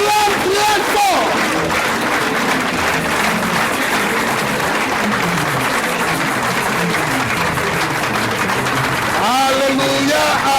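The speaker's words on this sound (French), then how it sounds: "Acclame très fort" Church congregation at a lively Pentecostal service cheering and shouting loudly for the whole stretch, a dense continuous roar of many voices with applause and rising calls at the start and end.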